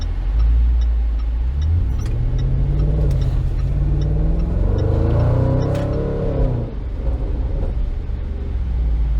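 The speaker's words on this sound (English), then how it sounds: "You can hear that back rumble occur as soon as you pull up your foot off the gas" A 2019 Jaguar F-Pace SVR in sport mode: a deep engine rumble swells as it accelerates, then drops and burbles as the throttle lifts, loud and close throughout.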